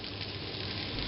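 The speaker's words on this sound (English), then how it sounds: "just cook them until they're nice and brown on each side" Varenyky dumplings browning in a frying pan, a steady dense sizzle and crackle of hot fat, close and even throughout, with no talk.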